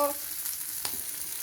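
Bata fish fries in hot oil with a steady, bright hiss and crackle, close and continuous, with a faint scrape partway through.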